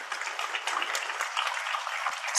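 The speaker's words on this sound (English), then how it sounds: "A big round of applause to all of them." Applause for panelists at an air quality conference, a steady broadband patter of many hands that holds at an even level throughout.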